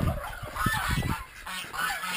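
Geese on an off-grid homestead honk in a quick, loud series of nasal calls close by, overlapping and trailing off into scattered shorter honks.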